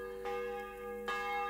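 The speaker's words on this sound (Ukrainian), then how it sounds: "Дураки дзвонять дзвін серед ночі" A church bell tolls at night in the medieval game Kingdom Come: Deliverance, two resonant strikes with a long ringing hum sustaining between them, heard alone.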